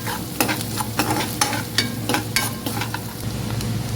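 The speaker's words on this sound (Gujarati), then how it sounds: "પછી આવશે ઓનિયન, ચોપ ઓનિયન. નમક નાખવાનું, પછી થોડુંક સોટે થવા દેવાનું." Chopped onion with salt sautéing in a pan for poha, a steady sizzle punctuated by repeated sharp scraping strokes of a spoon stirring, roughly one every half second, close and clear with no talking.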